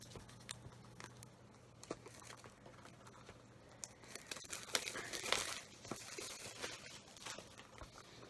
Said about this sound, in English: nice hardback book, shrink wrapped. Let's open the shrink off.